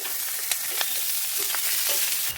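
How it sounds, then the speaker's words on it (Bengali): Bay leaves, cumin, onions and green chillies fry in oil with a loud, steady sizzling hiss, a few soft stirring knocks breaking through, close by. "পেঁয়াজ আর কাঁচা লঙ্কা দিয়ে দেব"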